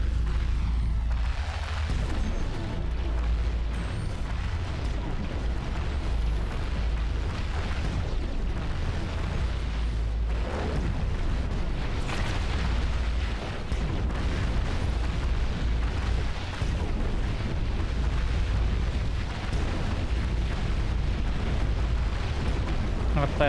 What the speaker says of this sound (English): EMP shots